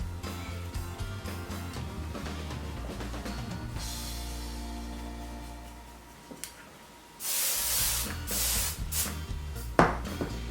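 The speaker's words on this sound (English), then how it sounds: "Give it a spritz." Hairspray is spritzed onto teased hair for a 1960s beehive, with a couple of short hissing sprays standing out against quieter rustling and handling sounds nearby.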